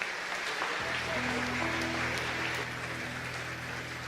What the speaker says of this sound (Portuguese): Dá um forte aplauso ao Senhor Jesus.